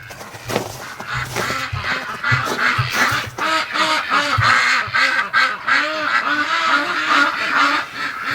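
A flock of ducks, including Rouen breeders, quacks loudly and continuously at close range in busy overlapping bursts, answering a person calling to them.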